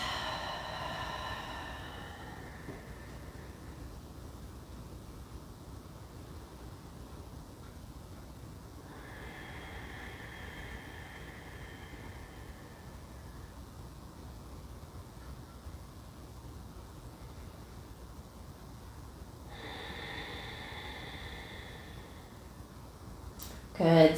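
Three slow, soft yoga breaths taken in a seated twist, each a faint airy rush spaced several seconds apart in a quiet room.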